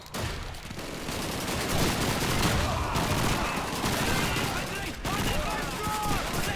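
Sustained automatic fire from a PPSh submachine gun in Call of Duty 2, continuous loud bursts with battle noise and flames around, while a voice talks over it.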